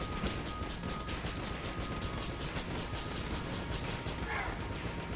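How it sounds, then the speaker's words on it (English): Rapid, rhythmic bursts of gunfire and explosions from a video game weapon, a continuous mechanical rattling stream at moderate level with no pauses. "We have a gun that's just generating permanent explosions forever."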